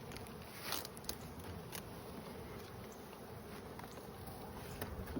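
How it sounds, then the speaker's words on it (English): Honeybees buzzing around hive boxes during an early-spring colony inspection, a faint continuous drone close by with occasional soft knocks and crackles of handling, no voices. "Plenty of bees up here."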